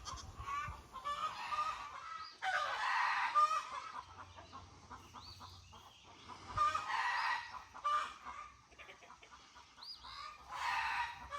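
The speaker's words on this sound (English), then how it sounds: "In the background, you can hear the chickens doing what they do best." Chickens on a farm cluck and squawk in bursts, with crowing calls mixed in, sounding moderately distant against a quiet background.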